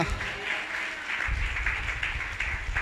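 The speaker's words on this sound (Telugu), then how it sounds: "గట్టిగా చప్పట్లు కొడదామా?" Loud applause from a church congregation celebrating the risen Jesus, a dense steady wash of many hands clapping that swells louder partway through and continues throughout.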